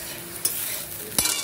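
Vegetables fry in a pan with a mixed spice paste, giving a faint, steady sizzle, broken by two sharp scrapes of a utensil stirring against the pan.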